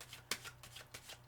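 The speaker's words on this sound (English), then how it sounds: "that's a very satisfying shuffle and cut." A deck of Rider-Waite tarot cards is shuffled and cut close by, with a crisp riffle burst followed by several lighter flicks and taps, quiet and with no voices.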